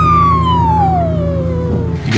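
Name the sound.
town siren before the football game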